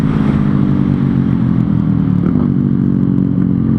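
A Yamaha MT-07 motorcycle runs steadily and loudly close by, its engine note holding even throughout with some mechanical clatter over a constant low drone.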